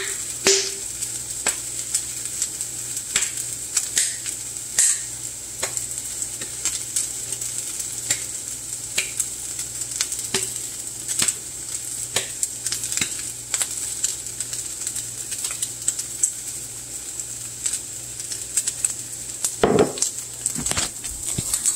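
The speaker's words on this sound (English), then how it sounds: "Listen to that sizzle sizzle." Chicken frying and burning in a hot pan: constant crackling sizzle with scattered sharp pops and stirring clicks, close and unbroken, with no voices.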